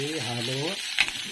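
Vegetables such as chayote and carrot sauté in a pan, with a steady sizzle running under a voice at first, then a clattering stir of the spatula near the end.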